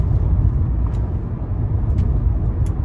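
Cars on a road passing close by, a continuous loud low rumble of traffic that swells and eases slightly, with no talk.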